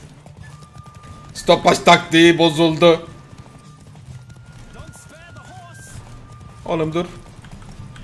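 Horse hooves clip-clopping as the horse is ridden in The Witcher 3, a quiet rhythmic patter running under a man's speech, with game sounds in the background.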